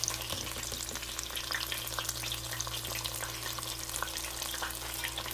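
Baby bella mushrooms deep fry in hot oil, giving a dense, continuous crackling sizzle with scattered pops, steady and close with a low hum beneath and no talking.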